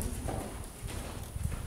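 Horse hooves clip-clopping in a steady rhythmic extended canter during a dressage ride, close and continuous under a faint background hum.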